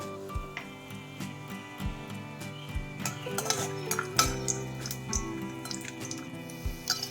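Peanuts roast in hot oil in a kadai, making irregular light clicks and taps against the metal pan, close and fairly quiet, with no talking.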